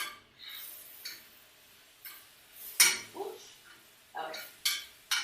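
A spoon stirring cranberries in a pan, heard as a handful of light clinks and scrapes at irregular intervals, quiet and close, with no voices.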